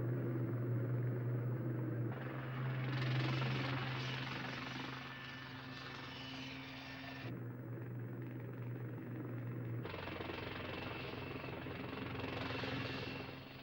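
Lynx military helicopter in flight, a continuous droning rotor and engine rumble with steady whine that shifts in level a few times, sustained and fairly close, with no voices.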